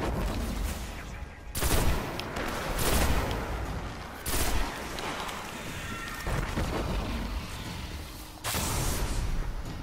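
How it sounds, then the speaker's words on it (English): Repeated grenade explosions and bursts of rapid gunfire fill a firefight in the video game Destiny, heavy booms recurring every couple of seconds over dense, chaotic shooting. "Grenades going off everywhere."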